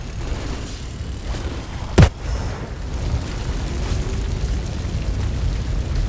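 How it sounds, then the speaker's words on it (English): A single sharp boom from a thrown grenade in the video game Outriders bursts out once over a steady bed of game ambience and rumble, then fades quickly. "I'm probably gonna throw a grenade."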